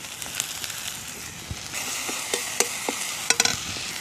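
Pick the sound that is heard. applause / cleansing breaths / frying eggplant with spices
frying eggplant with spices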